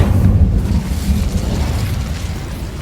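An Incendio fire spell in Hogwarts Legacy lands as a loud, close explosive whoosh that swells at once and settles into a sustained roaring rumble, with no talk over it.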